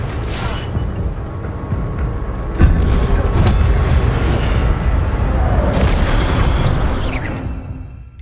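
An Incendio fire spell goes off in the video game Hogwarts Legacy with a sudden boom, then a loud sustained roar of flame and rumble that fades toward the end.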